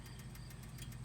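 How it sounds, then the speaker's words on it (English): Stock exhaust of a Harley-Davidson Sportster SuperLow idling, a low steady rumble with a faint rhythmic ticking pulse, moderately quiet and heard alone. "So that's the stock exhaust, which doesn't sound too bad."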